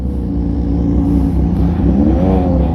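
A Yamaha MT-09 motorcycle in its most aggressive riding mode with traction control switched off, engine droning and climbing steadily in pitch with a rising rev tone, loud and close throughout with no talk.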